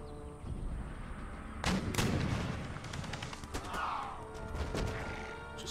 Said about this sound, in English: Open fire against